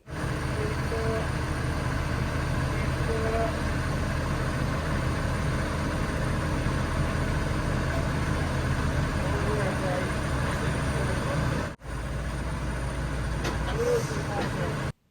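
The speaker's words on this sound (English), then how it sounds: "they can reverse the cart back up to the generator" A heavy vehicle idling and slowly reversing a carnival cart back up to a generator, a steady loud diesel rumble with a brief air-release hiss near the end. A voice talks over it.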